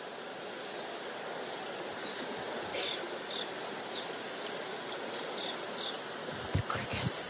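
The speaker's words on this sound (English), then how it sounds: "The crickets." Crickets chirp steadily and fairly loud throughout, a continuous high insect trill over a constant hiss, with a few brief thumps near the end.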